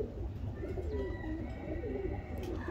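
A pigeon coos softly in low, rolling murmurs within a pigeon club loft, steady and close against a faint background hum.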